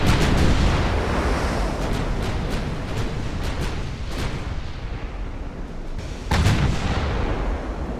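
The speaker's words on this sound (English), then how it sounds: "The next volley fire." Naval guns fire volleys in a warship battle in the video game Ultimate Admiral Dreadnoughts, a rolling series of deep booms and sharp cracks, with a fresh heavy salvo near the end.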